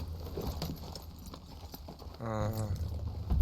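A horse's hooves clip-clop in the open-world western game Red Dead Redemption 2, with a run of crisp, close, irregular knocks, joined near the end by a brief voiced sound.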